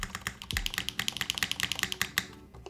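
Typing on a DR-70F mechanical keyboard with PBT keycaps, a quick run of close, crisp key clacks in an uneven rhythm that trails off at the end, with no talk.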